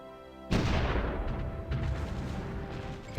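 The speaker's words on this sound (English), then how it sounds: "Okay, so you try to bombard us." A heavy artillery bombardment in the strategy game Supreme Ruler Ultimate, with a sudden loud boom followed by a rumbling roll of blasts and a second impact, close and dense with no talk.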